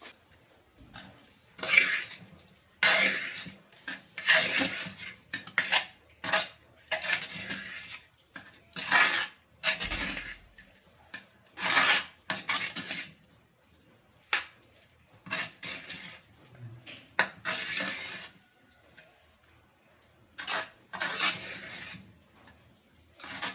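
Fried onion and green chili are stirred into a plain jackfruit stir-fry in a home kitchen, with repeated bursts of a spoon scraping and clattering against the pan, separated by short quiet gaps.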